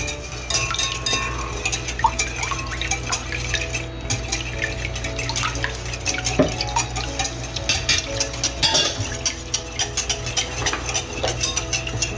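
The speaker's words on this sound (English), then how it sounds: "Then we can mix in our egg." An egg being mixed into chocolate cupcake batter of milk and oil in a bowl, steady wet stirring with frequent light clinks of utensil against the bowl throughout.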